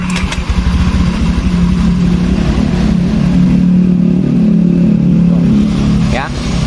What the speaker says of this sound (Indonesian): Ya teman-teman dengerin secara seksama. Ini di bagian mesin tidak begitu kasar-kasar amat.